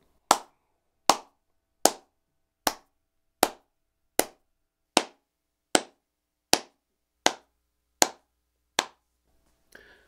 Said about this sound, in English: first of all, we got a clap